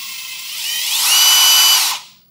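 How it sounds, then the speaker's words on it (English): An impact driver bores through an aluminum oil sump during a 3.8 turbo kit installation, a loud continuous high-pitched whine that rises in speed, holds steady, then cuts off abruptly. "allow you to have that control that you need while drilling through the sump"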